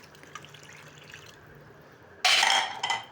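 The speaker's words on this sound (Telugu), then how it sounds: "ఇప్పుడు ఇందులో సరిపడా నీళ్ళు పోద్దాం." After a quiet simmer, water is poured into a pan of frying chole masala with boiled chickpeas and potatoes, setting off a sudden loud, close hiss and bubbling that fades slightly.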